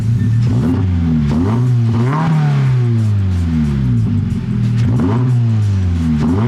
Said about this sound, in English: I'm gonna give it some baby revs